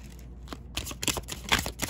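Tarot cards shuffled and handled close up, a quick flurry of crisp riffling and flicking card sounds over about two seconds with no talk.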